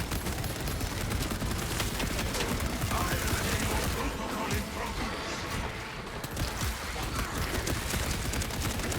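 Dense, relentless heavy bolter fire from Space Marine 2 roars without pause, loud and close, a continuous rattling barrage with crashing impacts layered throughout.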